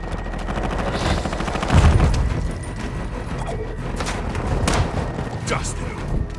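Rapid video game gunfire rattles in steady automatic bursts under shouted radio-style voices, with a heavier thump near the two-second mark and sharp single cracks later.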